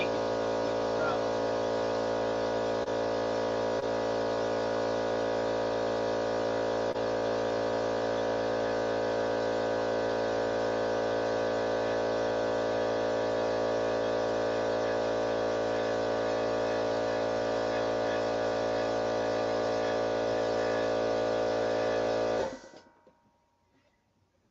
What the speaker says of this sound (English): Turn the compressor off after this run. The hose is leaking.